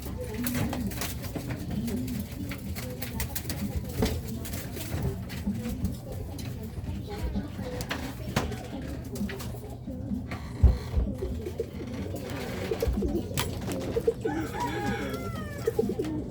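Racing pigeons coo softly and repeatedly amid a busy background of bird calls and rustling, with occasional faint voices nearby.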